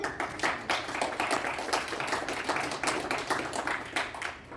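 Audience at an awards show clapping, a fairly quiet but continuous spread of many hands with an uneven rhythm, fading out at the end.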